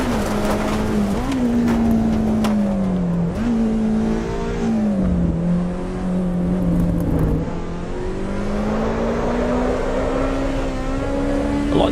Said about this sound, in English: The tyre noise.